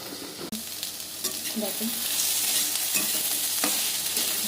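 Pumpkin pieces frying in a pan, a loud continuous sizzle that swells midway, with intermittent scraping and clinks as they are stirred; a single brief spoken word at the start.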